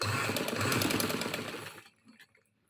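Sewing machine stitching a shalwar waistband fold, a close, steady whirring run that stops after about two seconds, followed by faint handling noises.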